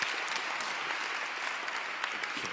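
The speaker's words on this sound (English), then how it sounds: "A round of applause, please, for our panel." A conference audience claps steadily for a panel in a full, even round of applause, mid-distance, with no voice rising above it.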